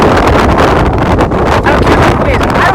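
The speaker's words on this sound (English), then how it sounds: "Really windy up here" Strong wind at Petit Jean State Park, Arkansas, buffets the microphone in a loud, continuous roar with gusty rumbling throughout.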